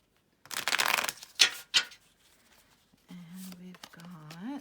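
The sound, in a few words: shuffling a deck of cards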